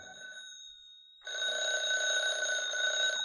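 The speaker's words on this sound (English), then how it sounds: "the phone was ringing" Telephone bell ringing indoors as a radio drama effect, a steady bright electric ring that cuts off briefly and then resumes louder, with no voices over it.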